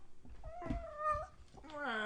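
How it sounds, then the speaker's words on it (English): A cat meows close by indoors, a few drawn-out tonal cries rising and falling, the last one longer and higher, with soft handling noise around them. "I got my cat joining me here."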